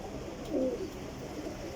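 A flying-breed pigeon in Jhelum gives a single short, soft coo, faint against a low, steady background hum.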